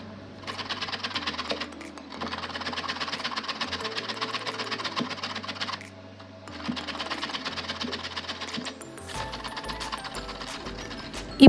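A carrot is grated by hand in rapid, continuous scraping strokes, grouped into several long bursts with short pauses between them. It is close and fairly loud, and no one talks.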